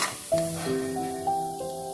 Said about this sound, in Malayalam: കുറച്ച് സവാള നമുക്ക് വറുത്തെടുക്കാം